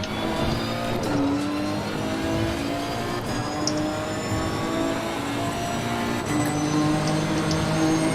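Nissan GT-R race car in the racing game Assetto Corsa Competizione, engine roaring steadily with shifting revs and gear changes, other cars audible around it, loud and continuous with no talk.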